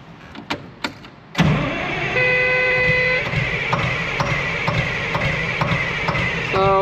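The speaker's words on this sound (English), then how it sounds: "we should be able to crank this over and see what we got going on" Ex US Army Caterpillar D6R dozer with only 800 hours, dead and not running: a couple of sharp clicks, then the starter cranking the diesel engine over in a steady, loud, close whir with rhythmic pulses and a squeal at the end.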